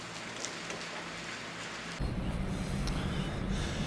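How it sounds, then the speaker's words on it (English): A thunderstorm with rain on the Furka Pass in the Swiss Alps gives a steady, dense hiss of rainfall that suddenly grows louder and heavier halfway through, with faint low rumbling beneath and no voices. "Get to the Furka Pass, halfway up, get caught in a thunderstorm."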